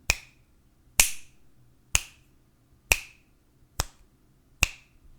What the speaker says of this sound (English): Now your awareness went from your thoughts to the sound of my finger snaps